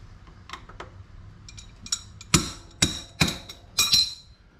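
Four sharp metallic strikes, evenly spaced, as a metric crescent wrench's built-in hammer is used, preceded by a few lighter clinks and taps.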